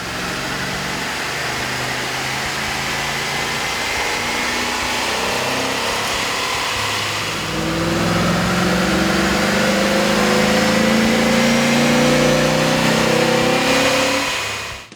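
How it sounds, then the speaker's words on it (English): A Chevrolet 5.3-liter V8 runs on a dyno with an aftermarket air intake, revving up with rising engine tones, then building to a louder sustained roar midway before cutting off at the end. "we ran the vehicle on the dyno to test the sound comparison versus the stock intake"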